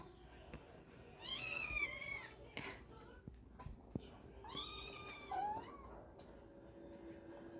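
A cat lets out two drawn-out, wavering meows up close, a few seconds apart. Soft handling noises and a quiet background fill the gaps, with any purring not clearly evident.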